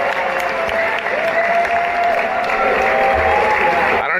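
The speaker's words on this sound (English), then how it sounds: "he's golf clapping." Applause from a crowd after a political speech, steady and moderately loud for a few seconds with a faint tonal hum underneath, no voices clearly heard.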